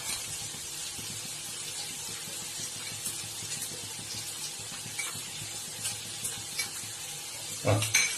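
Chili powder, coriander powder and spices frying in hot oil for a fish curry, a steady close hiss and crackle with occasional stirring scrapes, a brief louder clatter near the end.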